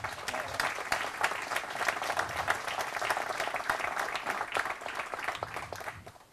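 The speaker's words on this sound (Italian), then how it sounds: "Vi prego di accoglierlo con un applauso." Audience applause welcomes a speaker at an Italian summer university lecture, a dense, even clapping from a seated crowd sustained for several seconds at moderate distance.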